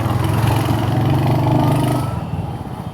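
A motorcycle engine hums steadily while riding on a highway, its rhythmic drone and wind rush close and loud, then easing slightly in the final second.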